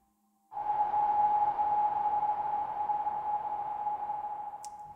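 A single Sequential Take 5 synthesizer tone starts abruptly and sustains with a bright, ringing pitch, washed in its built-in reverb that blurs its edges and trails off slowly.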